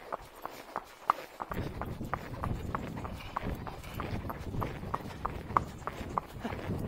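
An Arabian horse's hooves beat out a steady, rhythmic three-beat canter on hard ground, close and clear, continuing throughout.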